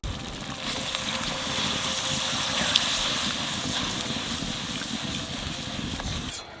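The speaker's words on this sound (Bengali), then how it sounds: "এখন জল দিয়ে দেবো।" Water poured into a pan of simmering egg curry masala sets off a steady gushing hiss with a continuous sizzle underneath, close and even throughout, fading at the very end.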